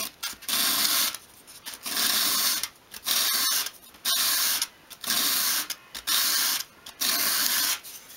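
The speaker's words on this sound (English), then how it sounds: "hold the piece against a sheet of sandpaper at a 45 degree angle and simply sweep it towards you" A small miniature wooden table top, its edge held at an angle, swept repeatedly across a sheet of sandpaper: about seven steady, even rasping strokes with brief pauses between them.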